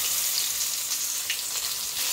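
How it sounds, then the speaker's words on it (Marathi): Mustard seeds and curry leaves sizzle and crackle in hot oil for a tempering in a farm-shed kitchen. The sizzle is bright and steady at close range, with occasional pops and no talking. "तर कढीपत्ता घातल्यान तडला सगळा"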